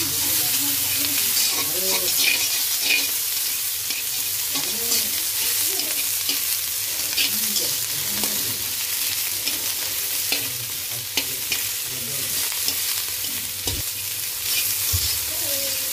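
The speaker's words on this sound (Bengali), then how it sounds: "পেঁয়াজটা ভালো করে ভাজবো।" Onion frying and being stirred in hot oil for fried rice, constant loud sizzle with spatula scrapes and clinks against the pan, a faint voice occasionally underneath.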